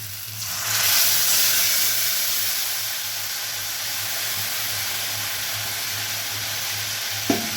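Ground spice paste hits hot oil for an okra masala, bursting into a loud sizzle that settles into a steady, close frying hiss, ending with a sharp utensil knock.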